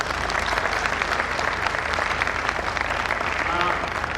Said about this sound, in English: We want a big clap for them.